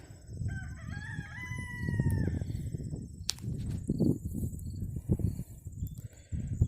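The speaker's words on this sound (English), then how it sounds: "Some chickens." A rooster crows once, fairly distant, over a steady outdoor rumble of wind and movement, with a few faint clucks afterward.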